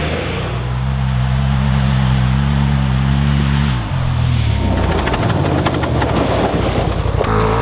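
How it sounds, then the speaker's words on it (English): A car drives along with loud engine hum and heavy wind buffeting, the low tone dropping midway as the vehicle shifts or slows, then rumbling on over rough road noise. "I know, I'm just driving."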